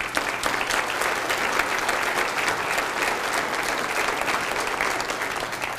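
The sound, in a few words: audience applause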